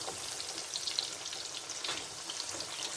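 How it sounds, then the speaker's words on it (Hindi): Vegetable pakoras fry in hot oil, a steady close crackling sizzle with soft stirring movements and no talk. "अब मैं पकौड़ों को ऐसे हिलाऊंगी और चेक करूंगी"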